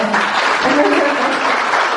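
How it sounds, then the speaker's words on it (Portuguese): Audience applause at a spiritist healing seminar, a steady wash of many hands clapping that runs through the whole stretch without pause, fairly loud and even, with faint voices mixed in. "Eu vou pedir uma salva de palmas também para os nossos irmãos que cantaram aqui cordialmente para nós, Célia e Catita."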